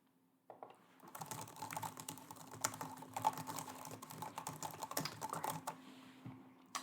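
Soft, close keystrokes on a computer keyboard tap in an irregular, continuous flurry during a quiet health club sign-up roleplay, with no voice over them.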